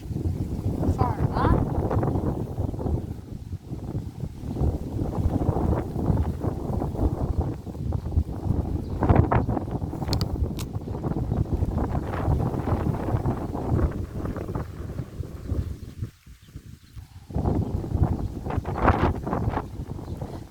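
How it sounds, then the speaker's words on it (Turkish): Strong wind buffets the microphone throughout, a dense, gusty roar with a brief lull near the end before it picks up again. "Bayağı rüzgar var."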